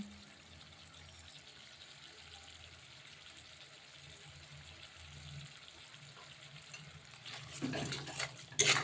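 Masala with salt and turmeric is stirred and fried in a pan for a Loitta fish curry, a low steady scraping and sizzle that swells into louder clattering, sputtering bursts near the end.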